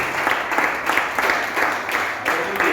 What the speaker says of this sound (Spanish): quiero que le demos un fuerte aplauso a los hermanos de las redes sociales